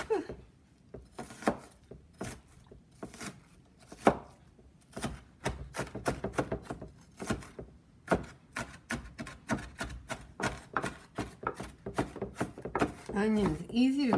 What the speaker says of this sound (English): So I just kind of quarter my onion.